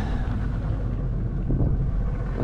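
Wind buffets the microphone in a steady low rumble, with gusty surges and no voices, outdoors on a breezy island shore.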